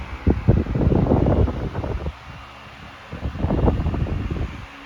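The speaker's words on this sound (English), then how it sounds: "This fan really cranks out the air." A Frigid 16-inch double oscillation table fan, model OSH-163-9, blows air straight into the microphone, making a rough, gusty rush that swells and eases as the head sweeps back and forth. The loudness rises and drops in uneven waves.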